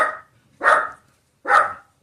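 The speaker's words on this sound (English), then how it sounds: "a dog walked by" A dog passing by barks three times at a moderate distance in a quiet room, the barks evenly spaced with gaps between them and no talk over them.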